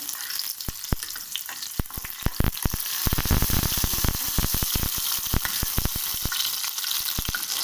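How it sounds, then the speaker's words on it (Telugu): Ingredients for mint chutney fry in a pan, giving a steady close sizzle broken by many sharp popping crackles that grow denser and louder midway, with no talking. "ఇలా ప్లేట్ పెట్టి ఫ్రై చేసుకోవాలి"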